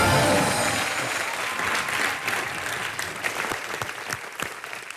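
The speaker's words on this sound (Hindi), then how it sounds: "एक बार जोरदार तालियां" Studio audience at a comedy talk show in Dubai breaking into loud applause, a thick wash of clapping that starts strong and slowly thins out over five seconds, with a few distinct sharper claps near the end.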